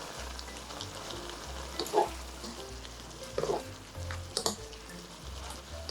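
Garlic scapes stir-fried in a pan with perilla oil and chili flakes: a soft, steady sizzle with occasional clinks and scrapes of a utensil stirring, fairly quiet and close.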